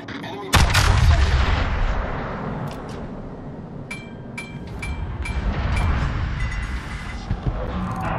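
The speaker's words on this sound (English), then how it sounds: "concentrate fire on the enemy warship" The Yamato battleship fires its main guns in World of Warships: one loud, booming salvo erupts near the start and rolls into a long rumbling decay, followed by faint metallic clinks.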